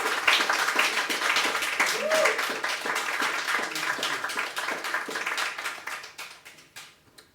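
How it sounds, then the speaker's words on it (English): Audience applause greeting Reverend Jim Rosemergy at a church service, a steady wash of clapping hands that fades out over the last couple of seconds, with faint voices mixed underneath. "let's give a big round of applause for Reverend Jim Rosemergy"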